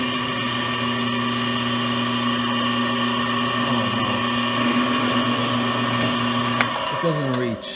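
A drill spots a hole in a KV75 drive sprocket, giving a steady, close, humming whine that holds level for several seconds before its pitch bends and slides away near the end.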